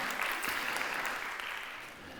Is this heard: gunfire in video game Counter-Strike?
no